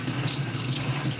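Habanero and green peppers being washed under a running kitchen tap, a steady close stream of water splashing into the sink with no talk.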